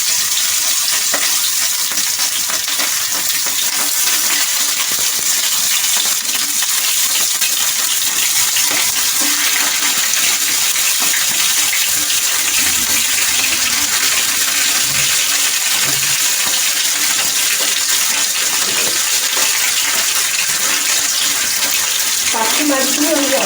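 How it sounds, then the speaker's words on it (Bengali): Parshe fish frying in hot mustard oil in a frying pan, a loud, steady hiss and crackle of spitting oil continuing throughout without talk. "সর্ষের তেলটা গরম হয়ে গেছে এর মধ্যে আমি এই পার্শে মাছগুলো একটু অল্প ভেজে নেবো"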